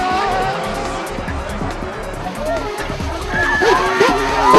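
Race cars at Bushy Park circuit roar close by as a Lotus dives down the inside of an Audi, engine notes rising and shifting with tire squeal, while a commentator talks over the racing.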